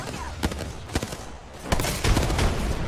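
Rapid gunfire in the video game Apex Legends, a series of sharp cracking shots and bursts that grow denser toward the end, with brief voices from players.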